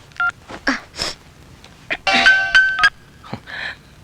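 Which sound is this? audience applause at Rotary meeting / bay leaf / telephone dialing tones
telephone dialing tones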